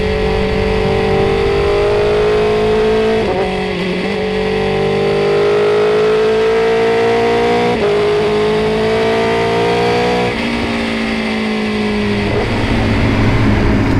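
A 2025 BMW S1000R motorcycle engine revs and accelerates loudly and close, its pitch climbing steadily in several rising sweeps with brief dips between gear changes, continuous with no talking.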